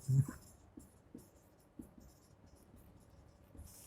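Faint, sparse writing on a board during a physics lecture on centre of mass. Scattered short taps and strokes sit over quiet room tone.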